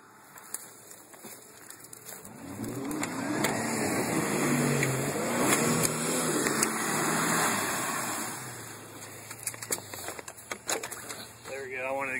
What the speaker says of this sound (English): Let me move my truck, try right here.